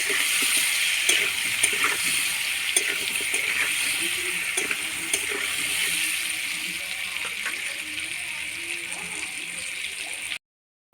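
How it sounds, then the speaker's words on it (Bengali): Diced potatoes tossed with salt and turmeric fry in a hot pan for a home-style chicken curry, giving a steady, close sizzle with occasional stirring scrapes that runs unbroken for about ten seconds before cutting off. "দিয়ে আলুগুলোকে লাল লাল করে ভেজে নেব"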